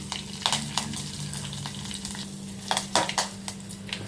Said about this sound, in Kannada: ಸಾಸಿವೆ ಹಾಕ್ತೀನಿ, ಮತ್ತು ಸ್ವಲ್ಪ ಜೀರಿಗೆ,